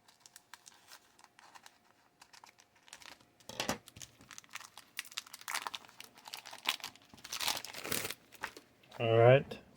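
Crinkling plastic packaging and snipping scissors rustle up close as comic book packs are cut open, building toward louder tearing bursts near the end, with a brief voice at the finish.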